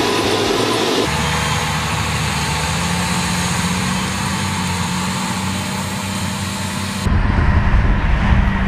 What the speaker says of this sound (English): The seed drill is placing pea seeds in the ground and then covering them with soil.